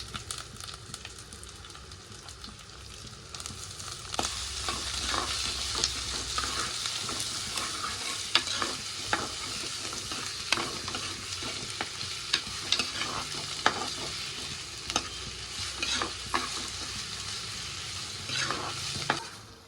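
Onions and green chillies frying in a clay pot for village-style chicken curry: a steady, close hiss and crackle that builds after a few seconds, with frequent spoon scrapes stirring through the frying.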